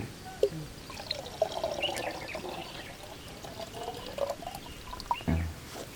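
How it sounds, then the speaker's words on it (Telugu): Tamarind water is poured into a clay pot for Ugadi pachadi, a short trickling pour with a few splashes and drips, close and fairly quiet. "చింతపండు చింతపండు పోసుకోవాలి"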